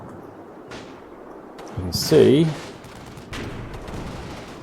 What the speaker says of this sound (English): that wonderful sound of big artillery coming in